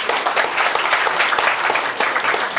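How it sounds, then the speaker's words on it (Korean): A large audience at a conference on Korean Peninsula geopolitics and North Korea policy gives sustained, dense applause. The clapping is steady and fairly loud throughout, with little talk. "다 같이 박수로 보여드립니다"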